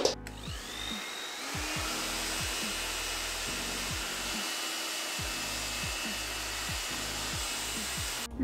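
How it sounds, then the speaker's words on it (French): A hair dryer runs steadily and loudly at home as hair is dried, its continuous whooshing hum filling the whole stretch with slight shifts in pitch as the airflow is moved. "je vais me sécher les cheveux"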